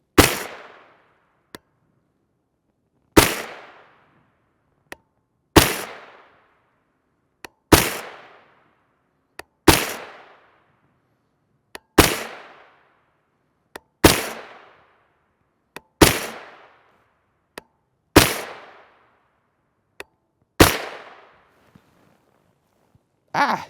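Palmetto State Armory AR-V9 9mm carbine with a single port muzzle brake firing single shots about every two to three seconds, each a loud, sharp crack with quick decay, and faint clicks between.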